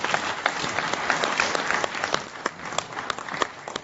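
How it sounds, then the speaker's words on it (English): Audience applause at a law conference, a dense, steady wash of clapping from a crowd, moderately loud and sustained throughout. "Can we have the huge round of applause, please?"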